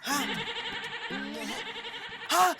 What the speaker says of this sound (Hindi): अरे मेमना कोई बकरी थोड़ी है जो ऐसे आएगी।